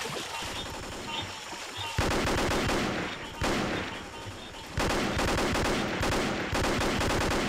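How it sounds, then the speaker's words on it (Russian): Dense gunfire rattles from all sides in the Vietcong video game, with sustained bursts of machine-gun and rifle fire that surge louder in waves across the whole stretch, loud and continuous with no breaks. "Так, блин, стреляет со всех уже сторон, ребята."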